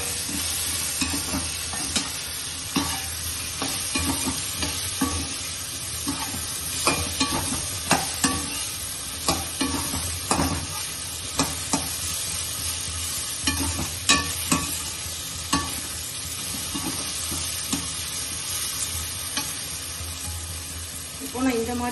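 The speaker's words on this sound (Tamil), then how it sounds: "குழம்பு மிளகாத்தூளை ஆட் பண்ணி அது ஒரு 2 மினிட்ஸ் நம்ம அப்படியே வதக்கிக்கலாம்" Brinjal sautés in a pan with curry chili powder, a continuous close sizzle punctuated by frequent scraping, clattering stirs of a spoon against the pan throughout.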